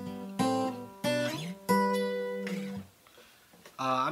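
Fingerpicked acoustic guitar plays the opening of a song, with clear ringing note groups in a steady rhythm, close and alone, with short pauses between the phrases.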